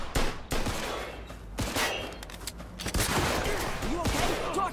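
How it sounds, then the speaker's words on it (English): A loud gunfight in the crime game Mafia II, with dense overlapping volleys and sharp cracks, brief pauses between bursts, and a few voice-like sounds mixed into the chaos. "That asshole shot me."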